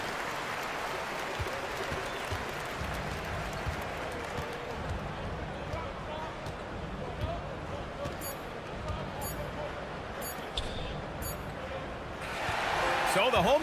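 Home crowd in an eBasketball video game cheers and roars in a steady wash of crowd noise with scattered ball bounces and squeaks, swelling louder in the final seconds.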